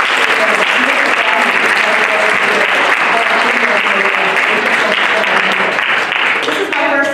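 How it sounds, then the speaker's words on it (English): Sustained loud applause from the audience at a press conference in Cerritos Library, welcoming the Mayor of Cerritos. A thick, even wash of many clapping hands continues throughout with no pause, with faint voices mixed in. "Please, nice round of applause for the Honorable Mark."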